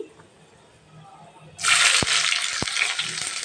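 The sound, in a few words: chopped onions added to hot oil with beef, sizzling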